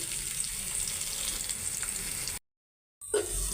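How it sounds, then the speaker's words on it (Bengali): Eggs fry in oil in a pan, giving a continuous close sizzle with light crackling. The sizzle cuts out briefly to silence, then resumes with a stirring scrape. "এদিকে ডিম রান্না হইতেছে ডিমগুলো আগে ভাইজা নিতেছি"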